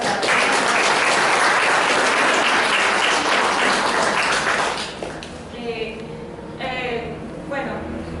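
Loud audience applause at a talk on reading and literature fills the room for about five seconds, then fades out as a voice begins speaking over the quieter room.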